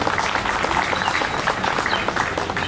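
An audience at a hospital's Independence Day celebration in Varanasi claps for the hospital director, a lively, close burst of many hands at an even level throughout.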